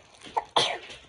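A single sharp sneeze, preceded by a short intake of breath, close and fairly loud.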